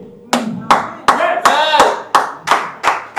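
Claps ring out in a sparse, slow rhythm of about eight sharp hits, a small gathering applauding a preacher at a church service in Yaoundé, with a faint voice underneath.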